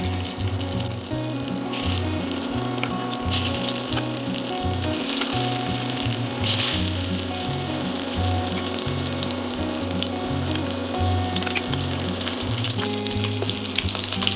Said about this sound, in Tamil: எண்ணெய் சூடானதும் நம்ம ஊற வச்சு இந்த மீனை வந்து இதில் போட்டு வறுத்துக்கலாம்